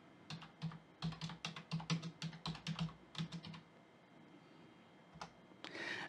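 Rapid bursts of keystrokes on a computer keyboard while entering a disk partitioning command on a Windows 10 PC, clustered in quick irregular runs and then pausing, close and fairly quiet.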